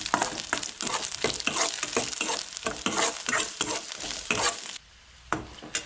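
Chopped onion fries in a pan with rapid, close stirring and scraping over a constant sizzle, the spatula strokes coming in a busy rhythm before a brief pause and a final scrape.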